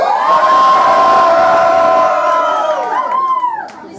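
Show audience cheering, whooping and shouting loudly for a man's kilt, a dense continuous crowd roar that fades out toward the end.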